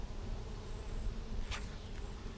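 A low, steady buzzing of bees hums close by, with a brief brighter rustle passing through midway.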